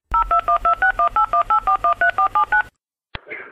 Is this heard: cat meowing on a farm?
no